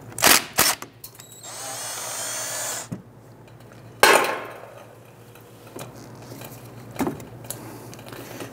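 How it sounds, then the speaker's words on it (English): A socket wrench loosening a 10 mm brake caliper bolt on a 1994–2004 Ford Mustang, heard as sharp ratcheting clicks and a stretch of steady mechanical whir with scraping metal between the bursts, close and alone without talk. "We're going to use a 10 millimeter socket. We're going to loosen and remove the bolt here."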